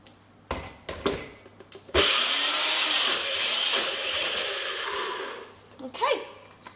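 A kitchen blender whips homemade hummus in one sustained, loud whirring run of about four seconds, preceded by a few knocks and clicks, then winding down as handling sounds follow.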